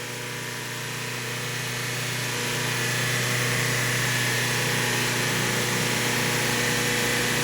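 Car engine held at about 3500 rpm during an ECM load test, a steady close droning hum with stable tonal bands that builds slightly over the first few seconds and then holds constant with no talk.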